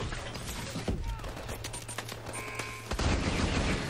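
Rapid automatic gunfire from a weapon in Call of Duty Advanced Warfare, a dense run of shots with a brief gap before a louder final burst near the end.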